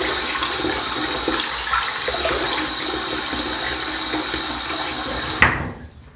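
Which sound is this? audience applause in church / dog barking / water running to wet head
water running to wet head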